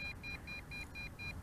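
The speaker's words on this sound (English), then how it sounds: "But it is constantly beeping." A GPS quadcopter drone flying at long distance beeps steadily in evenly spaced, repeating high tones, a regular pattern of short electronic beeps over a constant low rumble of wind and motor noise.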